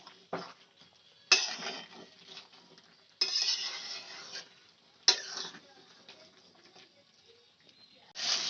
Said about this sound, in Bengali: এবার আমি ভালো করে কষাতে থাকবো।